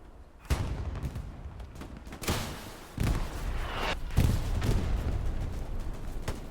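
Rocket launched at a lone soldier in the World War II shooter Hell Let Loose, on the Carentan map: several heavy booming blasts and gunfire bursts roll through a dense battle din, with a sharp launch near the start and a big impact later.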